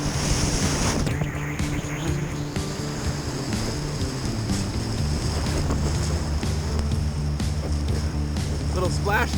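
Packraft running river rapids in Desolation Canyon, with steady rushing whitewater and splashing waves throughout, broad and continuous, while wind buffets the microphone and a voice briefly speaks.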